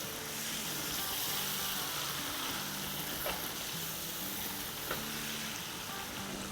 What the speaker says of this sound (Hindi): दही के साथ अच्छे से भून लेंगे